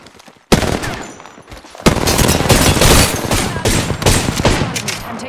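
Dense video-game gunfire rattles close and loud: a sudden burst, a short pause, then continuous rapid shots layered with impacts, with no talking.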